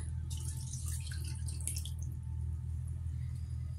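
Milk pouring into a Greek ground beef casserole mixture, a soft liquid splash and trickle that is loudest early and then fades, heard over a steady low hum with no talking.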